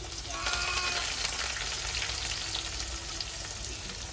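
Onion and garlic frying in a pan with cumin for tuver totha, a dense, loud, unbroken sizzle holding steady from start to finish with faint stirring underneath.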